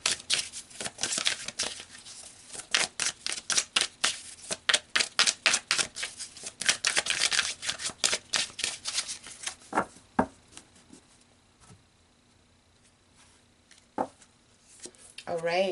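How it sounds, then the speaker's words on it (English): Tarot cards being pulled and shuffled, a dense run of quick papery flicks and taps close by for about ten seconds, thinning to a few scattered card sounds, with some talk at points. "So I'm going to pull some more cards here."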